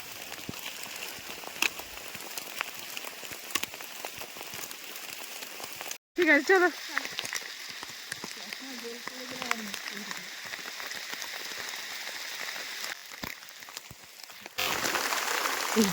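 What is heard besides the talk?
heavy rain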